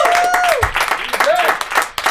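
A comedy club audience applauds a stand-up comedian as his set ends, clapping dense and steady, with a cheer or whistle rising through it and a voice briefly heard over the noise.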